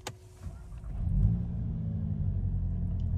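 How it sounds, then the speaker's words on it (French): A 2021 Volkswagen Golf 8 GTI starts up: a brief starter crank, then the engine catches with a rising rumble and settles into a steady, deep idle heard from close by with no talk. "je vais quand même me permettre de démarrer la voiture"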